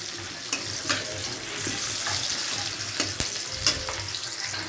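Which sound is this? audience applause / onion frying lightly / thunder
onion frying lightly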